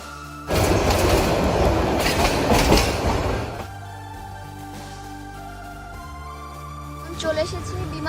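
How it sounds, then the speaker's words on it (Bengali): A passenger train pulls out of an airport railway station on a trip to Sreemangal, with a loud rolling rumble that eases after a few seconds into a steadier hum and clatter while people talk inside the carriage. "উঠতে পড়েছি আর সাথে সাথে ট্রেন ছেড়ে দিয়েছে"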